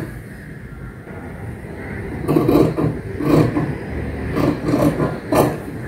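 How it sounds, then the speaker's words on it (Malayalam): Scissors cut the front neckline of dupatta fabric for a kaftan top, starting after a quiet pause with a run of crisp, close snips and rustles in uneven bursts. "നമുക്കിതാ ഫ്രണ്ടിലെ നെക്കും ഇങ്ങനെ കട്ട് ചെയ്തെടുക്കാം."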